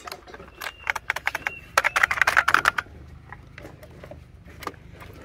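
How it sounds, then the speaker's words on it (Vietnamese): A large, heavy IBM computer keyboard from a scrap haul is handled and pressed, giving a rapid run of loud clacking key strikes, then a few scattered clicks, close up with no talk. "Một cái bàn phím IBM to và nặng, rất to và rất nặng."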